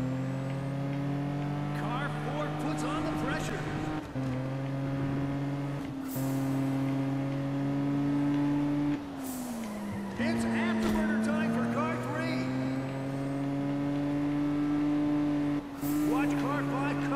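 Nissan Skyline engine tone in the racing game Juiced 2, sustained and rising and falling through gear shifts with brief drops, loud and continuous while someone talks over it.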